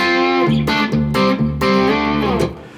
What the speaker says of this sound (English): a little bit of distortion using an MXR Timmy pedal and a little bit of reverb. So we get this sound.